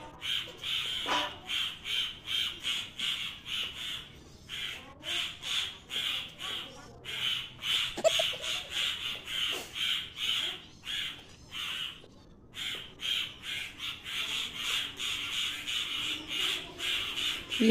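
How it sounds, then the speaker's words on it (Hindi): Crows caw in repeated harsh bursts, close and loud, throughout a fight with a cat climbing a tree, with a voice speaking briefly among the calls. "बिल्ली और कौवे की लड़ाई"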